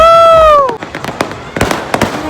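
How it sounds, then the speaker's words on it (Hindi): Firecrackers and fireworks go off on Independence Day in Old Delhi, a rising whistle followed by a string of sharp, loud cracks and pops at varying distances. "चारों तरफ पटाखे।"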